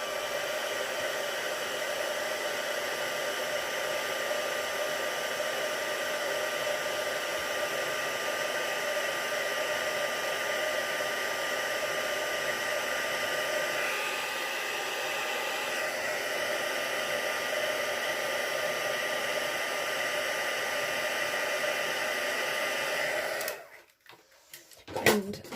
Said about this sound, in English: I'm just going to heat set this.